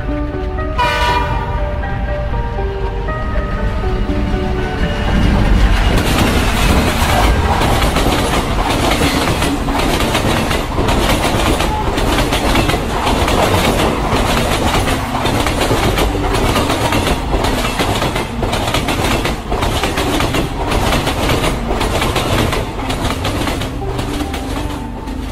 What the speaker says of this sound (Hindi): गुल्ली कहता है देखो सोन किसी ट्रेन की आवाज सुनाई दे रही है